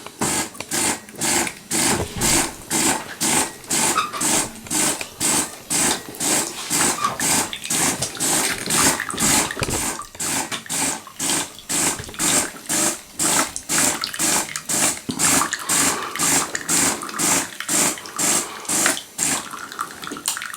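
A Delonghi Magnifica S Plus coffee machine runs a rinse cycle, pumping water with a fast, steady rhythmic pulsing that continues for about twenty seconds. The sound is close and fairly loud, with no voices.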